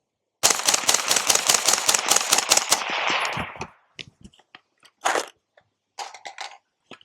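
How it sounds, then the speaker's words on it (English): Suppressed rifle fitted with a CAM556 Jaguar silencer fires a fast burst of about a dozen close, loud, evenly spaced muffled reports, then a few scattered clicks and handling knocks follow. "let's shoot real fast."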